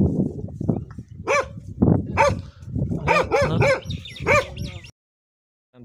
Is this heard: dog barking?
yes